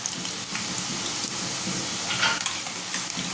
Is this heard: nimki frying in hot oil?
yes